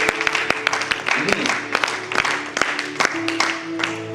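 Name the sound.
congregation applauding in church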